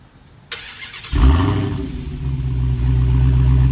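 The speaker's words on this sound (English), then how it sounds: "We're gonna start this thing off with a cold start." Dodge Hellcat V8 cold start: a click, then a whirring crank and a sudden loud catch into a deep, rumbling high idle that holds steady up close, with no voices.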